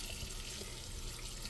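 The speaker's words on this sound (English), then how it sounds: "we're going to rinse off our meat now that it's cooled down" Tap water runs steadily into a sink as beef and bones are rinsed clean for pho, a continuous close splashing hiss with no talking.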